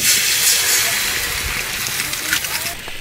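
Eggs cook on a Camplux portable camping stove, giving a loud steady hiss of burner and sizzle that runs unbroken from start to finish, close and dense.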